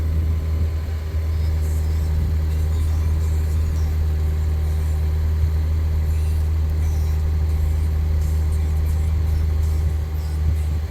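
A 2020 Range Rover Sport 3.0L V6 twin-turbo hybrid engine idles steadily after startup, a continuous low hum that holds even and loud for the full stretch, with no talk over it.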